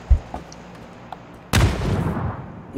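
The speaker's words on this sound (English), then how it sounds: "That was my nade." A grenade goes off in PUBG with a sudden broadband blast that rolls into a sustained rumbling decay, preceded by a few faint distant pops and ending with another thud.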